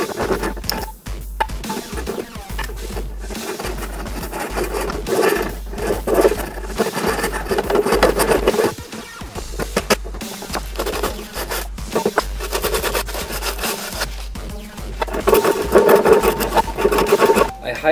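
Long strips cut from old belt sander belts rub back and forth along a wooden tomahawk handle, a steady close rasping scrape in uneven strokes with brief pauses, no talk.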